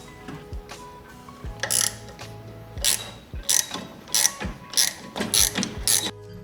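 A ratchet wrench on a reverse-thread nut holding the sprocket of a Kunray MY1020 electric motor on a drift kart, giving repeated bursts of crisp pawl clicking in a steady back-and-forth rhythm, close up with no talking.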